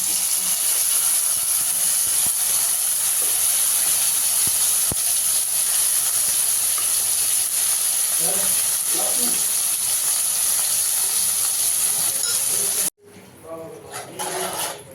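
Tomatoes fry in a pan of oil with dried red chillies and garlic cloves for tomato chutney, a steady loud hiss and sizzle lasting several seconds before cutting off, with brief speech.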